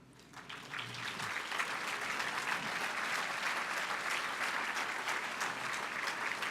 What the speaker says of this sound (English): Would our partners from the State Center Community College District please stand for a round of applause?